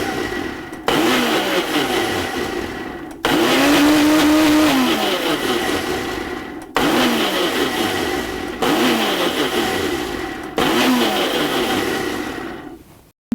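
A Ninja blender pulses an Italian-style creamy marinade dressing in several loud motor bursts of a few seconds each, whirring up and cutting off abruptly with short gaps between, no talking.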